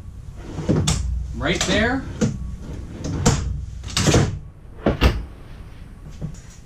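Several drawers in a 2018 Fleetwood Bounder 36F motorhome kitchen slide open and bump shut in turn, wooden knocks and rattles close by, while a person talks intermittently.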